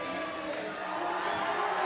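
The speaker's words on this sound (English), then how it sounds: "we woke the crowd up there" Crowd noise swells at a bouldering World Cup in Salt Lake City as a climber holds a heel hook, a dense steady roar of cheering throughout.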